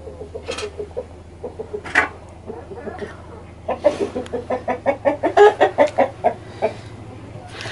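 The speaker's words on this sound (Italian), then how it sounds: "galline curiose mi stanno seguendo." Several chickens clucking close by, scattered at first, then a quick run of rhythmic clucks, with faint low background hum.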